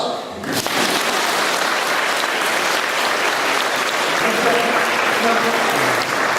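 A large audience at a World Youth Day service bursts into sustained applause to welcome guests, a dense, steady wall of clapping that begins abruptly and holds for several seconds in a large space.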